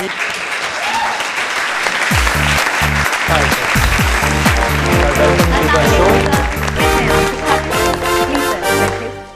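A studio audience applauds loudly as the guest Khalid Butt is welcomed onto a comedy show. Talk comes first, then dense, sustained clapping builds and holds at full strength before starting to fade.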